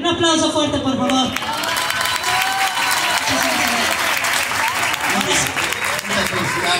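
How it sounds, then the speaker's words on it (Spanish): Loud audience clapping and some cheering for award winners at a ramas contest prize ceremony in Xalapa, continuous and close, with voices and crowd chatter mixed through it. "Muchísimas felicidades y un aplauso fuerte,"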